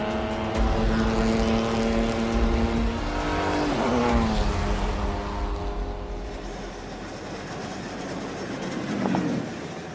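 A car races around a bumpy banked track, its engine droning loudly and steadily with the pitch rising and falling as it works through the banking, and no voices are heard.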